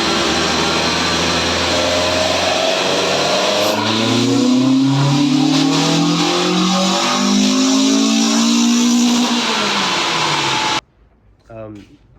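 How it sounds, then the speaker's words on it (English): A car with a twin cam 4AGE engine revs hard on a dyno, rising in pitch over several seconds to a loud, close wail before cutting off. "I will put the video on though, the dyno video that they sent me when the car went for a tune."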